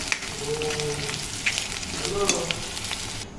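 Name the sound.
frying onion, garlic and dried chili for dal tempering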